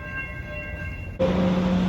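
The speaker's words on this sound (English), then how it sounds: "Another one of those like yellow trains has turned up" A yellow subway train arrives at a New York station, a sudden loud rush of wheels and rumble cutting in sharply with a steady high tone, after quieter platform ambience.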